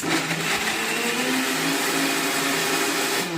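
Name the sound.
mixer grinder blending bottle gourd pieces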